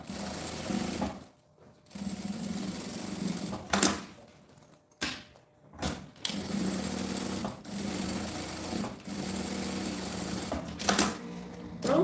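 A sewing machine stitching the side seams of a fabric school bag, a rapid close mechanical chatter that runs in bursts with brief stops and restarts.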